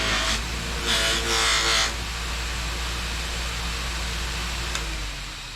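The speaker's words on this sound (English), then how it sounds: "you can see how weak this buffer is. It's an old grinder is what it is." An old bench grinder serving as a knife-polishing buffer whirs steadily up close, with louder grinding bursts in the first two seconds as blades are pressed against the wheel.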